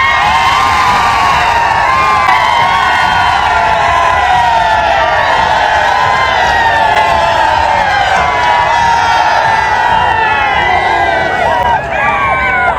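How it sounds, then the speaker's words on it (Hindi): A political rally crowd screams and cheers at full volume, a loud and sustained wall of shouting and whooping that continues unbroken for several seconds. "चीखे मारनी है चीखे मार लो"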